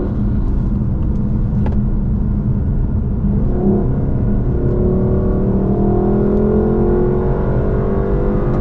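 A Lexus car drives the Laguna Seca track, its engine a loud, steady in-cabin rumble whose pitch climbs gradually toward the end as it accelerates.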